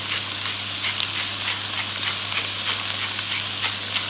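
Onions cooking in olive oil with salt in a pan, sizzling steadily and evenly at close range, with no voices over the frying.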